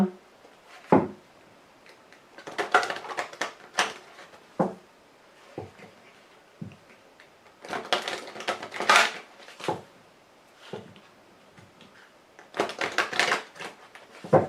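Lenormand oracle cards being shuffled and cut by hand, producing bursts of crisp riffling and slapping close up, separated by quieter pauses and single taps.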